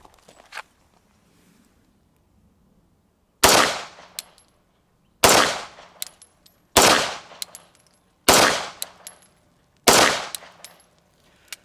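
Five sharp, loud pistol shots from a Sig Legion double-action handgun fired at 3 yards, spaced about a second and a half apart after a quiet pause, each with a short ringing decay.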